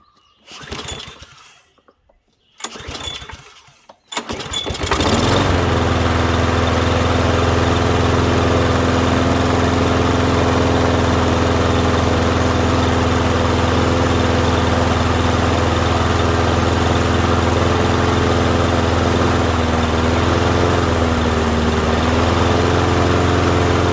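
A Craftsman push mower engine is pulled twice with short rough bursts, then catches and runs steadily and loud at a constant idle-like drone, with slight wavering near the end.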